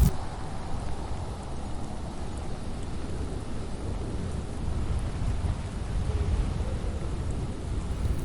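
A snowstorm's wind roars steadily and low with deep rumbling like distant thunder, a constant dense buffeting that never lets up, heard alone without voices.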